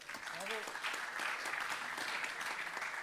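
A roomful of about a hundred attendees at a congress opening applaud, a steady, fairly distant patter of clapping with a brief voice near the start.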